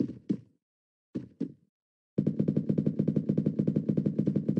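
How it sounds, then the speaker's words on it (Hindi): Gunfire in the mobile battle-royale game Free Fire: two quick pairs of sharp shots separated by a pause, then a rapid, continuous burst of shots. "शॉटगन से मार रहा है मुझे।"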